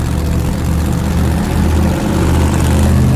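Loud, steady engine drone held at about 1,800 RPM in a car rigged for a ramp flip, a heavy, continuous low rumble with no speech.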